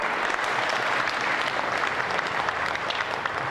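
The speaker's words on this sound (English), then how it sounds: "another big round of applause for our lovely contestants" Audience at the Miss South Pacific pageant gives a sustained round of applause for the contestants, a dense, even wash of clapping from a large crowd that continues steadily throughout.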